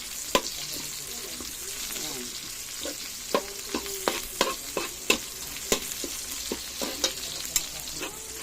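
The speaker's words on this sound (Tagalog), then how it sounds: "Mix natin dito ang sibuyas." Onions sizzle softly in a pan for adobong kangkong, with repeated sharp clinks and scrapes of a utensil stirring them in irregular bursts.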